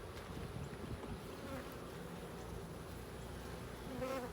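Honey bees buzz steadily and faintly during removal of a colony from a camper. The buzzing is a dense, continuous swarm drone with a slight swell near the end.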